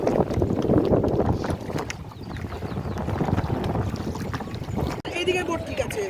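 A boat moves along clear, green-tinted river water, its churning wash and motor noise fairly loud and continuous, mixed with wind buffeting the microphone and people speaking nearby.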